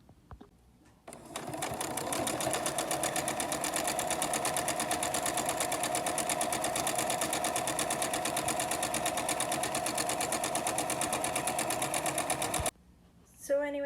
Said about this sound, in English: I ended up sewing around the whole perimeter other than about 1 inch or 2 on both of these